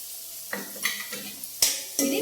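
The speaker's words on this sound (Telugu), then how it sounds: "ఇది పచ్చివాసన వచ్చినంత వరకు వేపుకోవాలి." Crushed ginger, garlic and coriander seeds sizzle in a pan while a spoon stirs and knocks against the metal, giving a few sharp clanks over a soft frying hiss.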